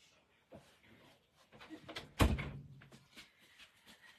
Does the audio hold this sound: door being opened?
yes